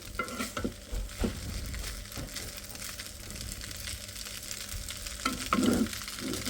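Cold chow mein being reheated in a pan gives off a steady, close frying sizzle with stirring scrapes throughout, growing louder and more crackly near the end.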